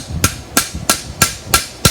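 A hammer strikes a welded aluminum heartbar six times in a steady rhythm, each blow a sharp, loud, close metallic crack with no voices.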